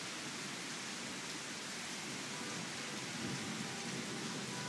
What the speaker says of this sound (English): There goes hail.